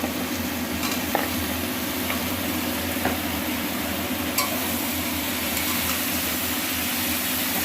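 Tomatoes, potatoes and drumsticks sauté in a pan for a Katla fish curry, a steady close sizzle with occasional stirring clicks and scrapes, no voices.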